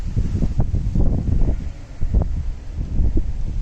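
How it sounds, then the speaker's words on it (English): Gusty wind buffets the microphone with a steady low rumble, swelling and easing in uneven bursts, with no one talking. "it's very windy here today"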